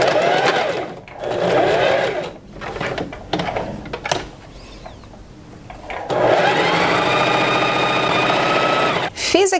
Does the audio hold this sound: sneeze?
no